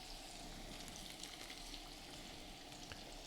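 Steady, dense crackling sizzle of white bass fillets frying submerged in hot oil, continuous and fairly quiet throughout with no talking.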